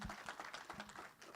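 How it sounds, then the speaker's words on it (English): Applause from a conference audience for panelists at a forum, a quiet, diffuse patter of many hands clapping at a distance, steady and soft throughout. "Let's give them a round of applause,"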